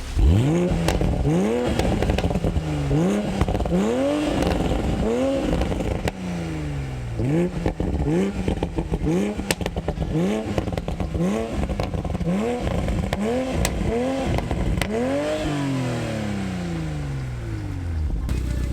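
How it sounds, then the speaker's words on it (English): The stock exhaust of a 2020 Toyota Supra A90 revs repeatedly, rising and falling in loud, close sweeps, with burbles and crackles popping between the rises. "the stock exhaust system sounds really good from the factory"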